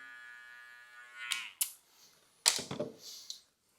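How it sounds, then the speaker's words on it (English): An electric hair trimmer buzzes close by during a men's haircut, a thin steady whine for about a second before cutting out, followed by a few sharp clicks and handling noises. "We'll go a little bit short with the trimmer again."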